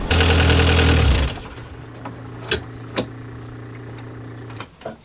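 A boat engine runs with a loud, steady drone that cuts out after about a second, leaving quiet hum and a few clicks and knocks as it shuts down.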